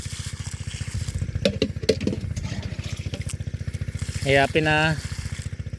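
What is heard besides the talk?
motor of a water pump running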